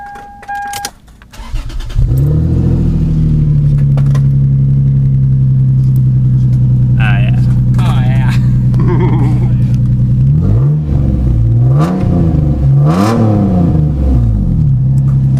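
A Lexus IS300 engine starts after a short clatter, then idles loudly and close before being revved several times in quick bursts while people talk over it.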